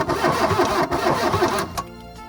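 A 1980 VW Caddy engine cranking on the starter during a fuel-priming job, a loud close rhythmic churn lasting under two seconds before it stops and a hum remains.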